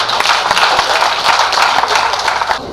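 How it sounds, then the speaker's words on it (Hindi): Applause from an audience for Renu Hussen at an evening gathering, steady dense clapping that holds at moderate level for a few seconds before easing slightly. "रेणु हुसैन जी को फिर एक बार मिलकर तालियां देंगे।"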